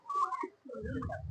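Caged pigeons coo in short, low, soft calls over roughly a second, at a picnic spot in Satkhira where turkeys are penned next door; a few faint whistly notes mix in.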